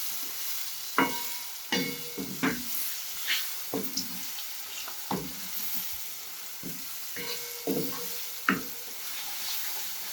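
Mango pieces stirred into a hot, sizzling spice tempering with coriander powder and kitchen king masala for mango rice, a soft continuous sizzle broken by several distinct scraping spoon strokes at irregular intervals.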